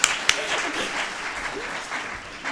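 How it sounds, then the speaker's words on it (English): Audience applause at a university athletic awards ceremony, a short burst of clapping that fades fairly quickly, with a voice speaking over it. "Round of applause, everybody."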